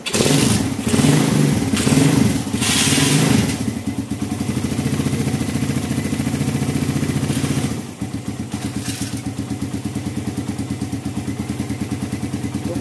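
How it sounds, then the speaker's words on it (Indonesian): A motorcycle engine with a slightly leaking exhaust, idle stuck and unable to be raised, runs close by after a few revs, settling into a steady, rapid putter with a ticking chuff from the leak. "knalpotnya bocor sedikit, kita benerin dulu"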